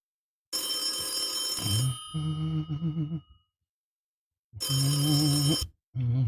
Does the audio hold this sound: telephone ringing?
yes